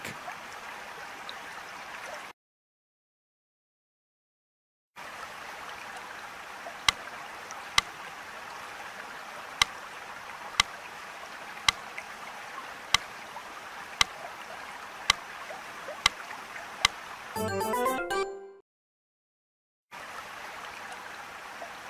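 Flowing creek water in the Ladybug Zee storybook app, a soft continuous rushing stream with a regular series of faint clicks and a brief warbling chime, broken by two gaps of silence.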